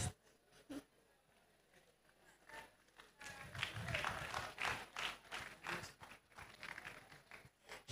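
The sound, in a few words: church congregation clapping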